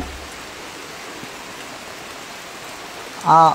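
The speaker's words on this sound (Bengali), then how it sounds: "প্রচুর বৃষ্টি হচ্ছে।" Heavy rain falls in a steady, even hiss that fills the whole stretch, with a voice briefly starting to speak at the very end.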